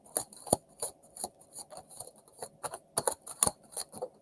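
Tarot cards riffled and shuffled in quick, crisp bursts, a series of papery flutters and snaps close to the listener, with no talking.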